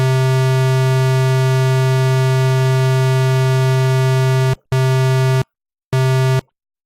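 A steady, buzzy square-wave tone from the NI Massive synthesizer, with delay and chorus, holds for several seconds, then cuts off and returns in two short bursts with a faint echoing tail.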